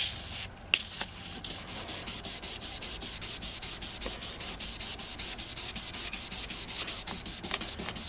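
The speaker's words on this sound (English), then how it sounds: "This next one is going to be 1500 grit, and it's very, very smooth." Fine 1500-grit sandpaper rubs across a rusty hatchet hammer in quick, even back-and-forth strokes, a steady close rhythmic scratching that runs alone for the whole stretch.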